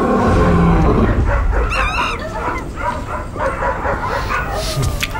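A New York police dog barks and yips loudly and up close, with whimpering between the repeated barks, in a busy scene with some background voices.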